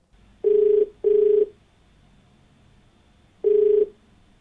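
On a television call-in show, a telephone gives three clean electronic rings. The first two come close together and the third follows after a pause, over a quiet background with no talking.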